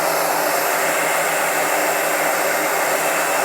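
A hot air gun blows a steady, loud hiss of air onto a 3D printed typing splint to soften it, holding one even tone from start to finish with no voices.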